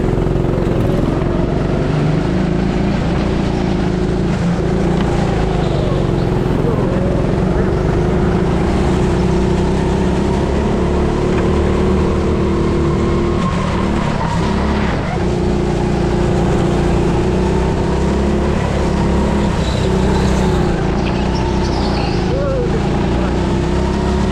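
A go-kart engine accelerating around a track, a loud steady motor drone whose pitch rises and falls through corners for the whole stretch, close and continuous.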